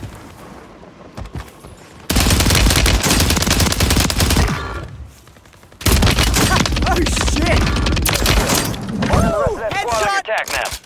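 Rapid STG 44 assault rifle fire in Call of Duty on Rebirth Island: loud, dense automatic bursts, one long stretch, a brief lull, then another sustained string of shots, with quieter game sounds between.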